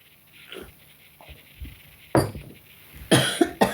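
A person coughs, starting with a few small, scattered throat sounds and rising to two harsh, loud bursts of coughing near the end, close to the mic and with nothing else heard.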